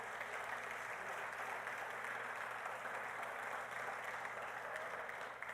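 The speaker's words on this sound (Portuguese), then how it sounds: "Você pode aplaudir a Deus pela palavra dele?" A church congregation applauds during a sermon, a steady, distant wash of many hands clapping without a break, fairly quiet and carrying a faint low hum underneath.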